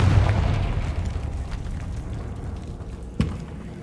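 Confringo fire-blast spell in Hogwarts Legacy: a low rumbling explosion at the start fading away, then a sharp single burst near the end, loud and alone.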